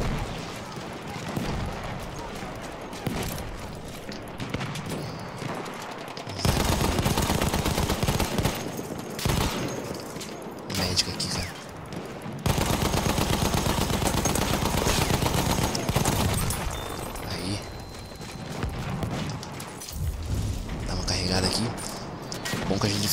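Sustained automatic gunfire from a 100-round-magazine machine gun in Battlefield 1 multiplayer, dense bursts filling long stretches with brief gaps, loud and close, mixed with battlefield noise and occasional talk.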